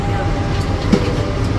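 Steady, loud rumble of the Argo Bromo Anggrek passenger train running, heard from inside with continuous wheel and carriage noise and faint rhythmic clatter, no talk.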